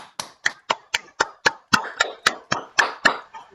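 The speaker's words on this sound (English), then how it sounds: "a round of applause, please" Hand clapping for an online talk session, about a dozen crisp, close claps in a steady even rhythm, loud and alone with no talk.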